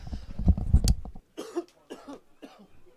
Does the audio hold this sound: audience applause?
no